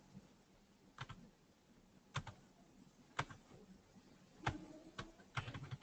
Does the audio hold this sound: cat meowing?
no